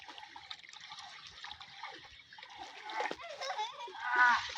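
Water splashes and sloshes as people play in floodwater, with irregular close splashes that grow louder toward the end and faint voices mixed in.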